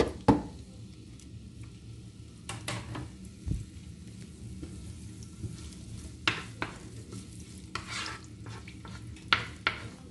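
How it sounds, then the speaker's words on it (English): Chopped onions frying in preheated cooking oil for a tilapia stew, a soft sizzle under repeated clinks and scrapes of a utensil stirring in the pan, no speech. "I'm adding my cooking oil to the pan. It's a little bit preheated. Then I add my chopped onions."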